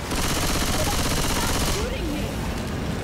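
Continuous rapid-fire gunfire in a zombie co-op shooter rattles loud and steady, then abruptly thins out near the end, with a voice faintly under the din.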